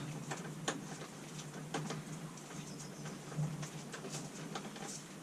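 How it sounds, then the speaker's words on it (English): Light rain pattering steadily, with scattered soft ticks and drips over a quiet background hiss. "It's raining a little bit outside right now"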